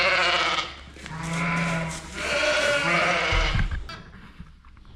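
A first-time shearling ewe and her newborn lamb bleat in a pen. The calls are loud and close, with repeated long wavering cries running almost continuously and a low thump near the end.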